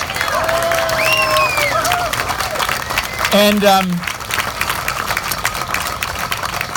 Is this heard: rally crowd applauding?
yes